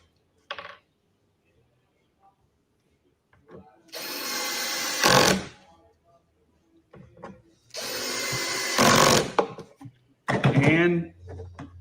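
A drill drives screws into a bee feeder lid in two sustained whirring bursts with short ramps, separated by quiet handling clicks, near and clear, with talk around it.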